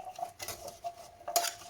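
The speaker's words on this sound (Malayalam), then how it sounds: "ഇളക്കി കൊടുക്കാം." A spoon scrapes and clinks against a pot while curry with turmeric, curry leaves and water is stirred, giving a few quiet, irregular strokes at close range with no talking.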